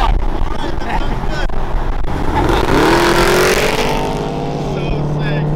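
A supercharged Jaguar XK rumbles past at close range, its engine note rising and then falling away over a few seconds, with people talking over it.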